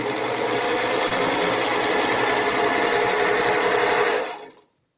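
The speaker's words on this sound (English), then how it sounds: "My little sewing machine I call Maybelline." A small home sewing machine stitching quilt block pieces, a steady fast whirring hum running loud and close for about four seconds before stopping abruptly.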